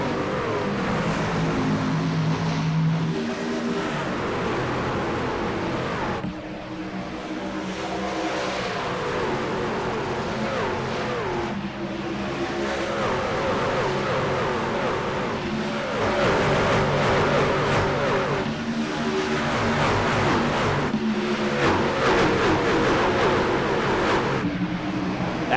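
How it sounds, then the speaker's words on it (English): Race trucks roaring off the start of an AREA Truck Series championship race at Atlanta, a dense pack of engines revving and droning loudly, rising and shifting as the field gets underway. "Green flag, and we're underway from Atlanta in the Area Truck Series Season 6 finale."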